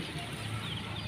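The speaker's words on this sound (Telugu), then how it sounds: "ఈ నార్మల్ గిరిజల కోళ్ళు అంటారు, ఆ జాతికి సంబంధించిన కోళ్ళు" Giriraja chickens clucking softly, a faint, low murmur of hens in a steady, quiet background over about a second.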